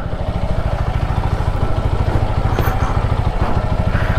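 Motorcycle engine idling loudly and close while the bike is parked at home after a night ride, a steady rapid thumping pulse throughout with no talk.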